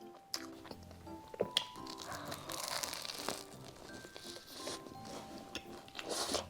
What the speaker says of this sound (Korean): 빵이 바삭하니 속이 꽉 차있어